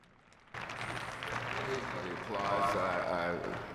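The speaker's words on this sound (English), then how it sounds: "So we don't have one side applauding, one other side not" Part of a conference audience breaks into applause that starts abruptly and builds into a sustained clatter of clapping, while several voices talk over it.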